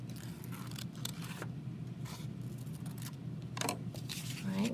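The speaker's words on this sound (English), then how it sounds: "With my scissors, I'll carefully cut these shapes." Scissors snip through folded paper shapes in a run of quick, close, crisp cuts, spaced irregularly over a faint room hiss.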